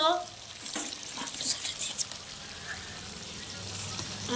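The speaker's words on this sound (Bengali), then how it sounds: "এখানে আমি মাংস কষাইছি মাংসটা ভালোভাবে কষে দিই" Meat and potatoes frying in a curry pan while being stirred, a steady sizzle with scraping stir sounds, moderately quiet, with a voice talking over it.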